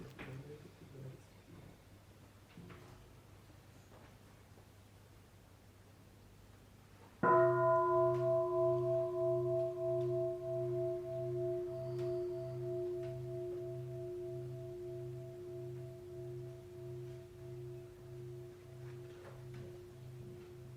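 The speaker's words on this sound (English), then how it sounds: "Maybe we listen to a bell so Miriam can take a breath." Meditation bell during a dharma talk, a single clear strike partway in after quiet room tone, leaving a long pure ringing tone with a slow pulsing beat that fades gently over many seconds.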